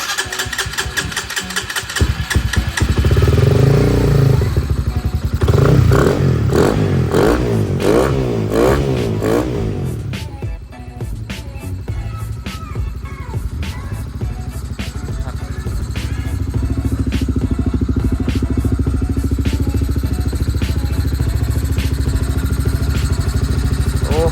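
A Honda Sonic motorcycle fitted with a CBR150 engine, not started for several days, cranks and fires, then revs hard in repeated loud bursts before settling into a steady close idle.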